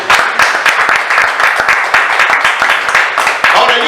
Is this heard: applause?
yes